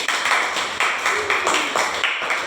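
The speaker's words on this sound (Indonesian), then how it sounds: "Oke, tepuk tangan untuk kelompok 3 dulu." A school classroom claps for a student group, a group of children clapping in a loose, fairly steady rhythm, near and moderately loud, without speech over it.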